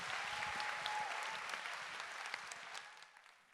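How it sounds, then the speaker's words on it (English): Audience applause fills an opening ceremony hall, a steady dense clapping from a large crowd that swells briefly and then tapers off toward the end. "Can we please have another round of applause for Ms. Khatib?"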